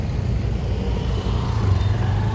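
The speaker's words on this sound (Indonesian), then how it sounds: "Jadi motor yang lalu lalang ini biasanya pengantar ya." Motorcycles passing by at a busy bus terminal in Palopo, a steady rumbling engine drone with traffic noise close by, no talking.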